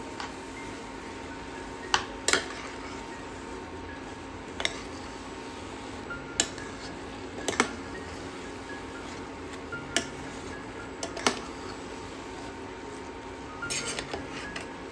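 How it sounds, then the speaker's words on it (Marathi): A spoon stirs khoa into carrot halwa in a pan, giving sparse, quiet metallic clinks and scrapes at irregular intervals over a faint background hum. "हा त्याच्यामध्ये टाकून द्यायचा आणि मिक्स करून घ्यायचं. आधी चमच्यानेच मिक्स करायचं."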